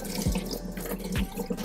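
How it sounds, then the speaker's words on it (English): Water pours and trickles out of a plastic refrigerator food storage container as it is drained, a steady splashing stream that swells briefly twice, heard alone with no voices. "Look, so you can drain the water out."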